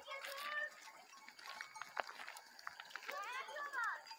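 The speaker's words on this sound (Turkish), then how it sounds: "Bak enişte beyaz keçi." A white albino goat bleats with a wavering cry on a highland pasture at Gözne plateau in Mersin, mixed in with people chatting nearby.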